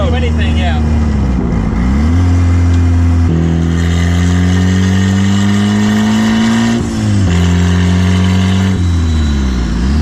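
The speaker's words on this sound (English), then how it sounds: "I guess we are hearing the blow off valve more" A turbocharged Mazda Miata engine revs loud and close, with pitch climbing and dropping between shifts and the whoosh of a blow-off valve, while people talk over it.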